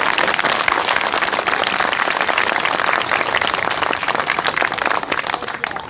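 An audience at a live talk breaks into steady, dense clapping that fills the whole stretch, loud and continuous with no voices over it.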